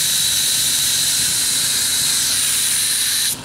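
A Lakoni Basic 25S oilless air compressor runs with a loud, steady hiss and a high whine that cut off sharply at the end.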